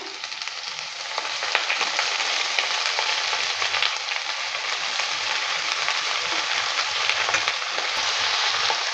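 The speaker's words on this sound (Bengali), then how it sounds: "বাঁধাকপিটা দেওয়ার পর ভালো করে নেড়ে নিচ্ছে" Chopped cabbage and lightly fried potatoes sizzle loudly and continuously in a pan, stirred throughout with soft scraping, close up and without talk.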